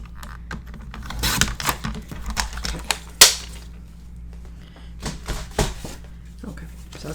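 Paper being cut to size for a flipbook, a scattered series of crisp, sharp clicks and snips close by, with a person talking in between.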